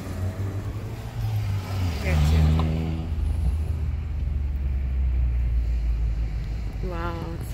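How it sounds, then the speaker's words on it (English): Road traffic in Spanish Town, Jamaica rumbles past with engines droning and vehicles passing close, under wind noise on the microphone and a voice speaking. "Crazy traffic."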